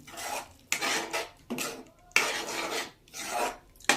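Thick garam masala paste is scraped and stirred in an oiled pan for mushroom masala, heard as long repeated rasping strokes with short pauses between them, close and fairly loud, with no one speaking.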